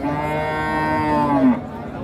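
A cow at a village cattle market lets out one long, deep, harmonic moo that swells and then fades out, close and loud with no talk over it.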